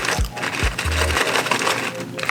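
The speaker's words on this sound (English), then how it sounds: "this one with the seaweed on it is extra crunchy" Crisp, crackly crunching of a fried seaweed snack being bitten and chewed up close, a brief loud bite followed by steady crunching.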